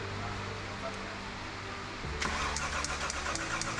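An Audi Q7 engine with a freshly rebuilt, dry cylinder head cranks and struggles to start, the starter whirring steadily before the engine catches with a rougher, louder rumble, heard close in a workshop.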